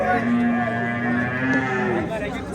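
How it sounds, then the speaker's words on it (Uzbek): Cows moo at a cattle market in Beshariq, Uzbekistan, a low drawn-out lowing that sounds twice nearby over a busy hum of crowd noise. "Qisir sigirlar ko'rsatyapmiz mana, qisir sigirlar."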